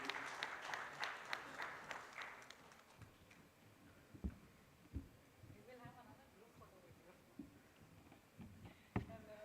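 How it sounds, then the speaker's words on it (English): Scattered applause from an audience at an international iron ore conference, quiet and thin, mixed with sharp individual claps and patter, with a voice talking over it. "Can we have a great round of applause for Mr."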